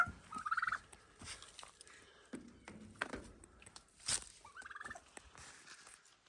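Turkeys gobble in short rattling bursts, two clear calls with softer clucks and shuffling between them, fairly close by.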